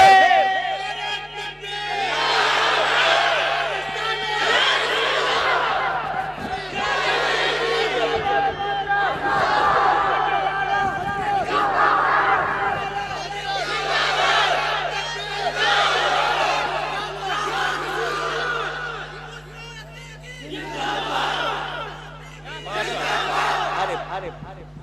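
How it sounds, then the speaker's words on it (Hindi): A large gathering chants Naara-e-Takbeer and Risalat slogans in loud, repeated bursts of many voices, rising and falling in waves over a steady low hum. "अपने वालिदैन की बख्शिश के लिए नारे तकबीर और रिसालत बुलंद कर दे"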